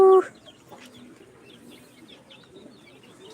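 A brief, loud burst of clucking from backyard chickens near their coop opens, then fades to faint, scattered chirps over a quiet outdoor background.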